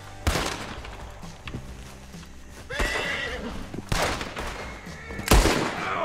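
Several loud gunshots ring out in the Western role-play video game Red Dead RP, spaced a second or so apart, mixed with a horse's whinnying and hoof clatter amid the game's background sound.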